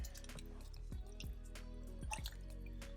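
A plant-based broccoli "cheddar" soup with frozen broccoli is stirred in a pot, giving wet, squelchy sloshing and dripping sounds in a steady rhythm up close, with no talking.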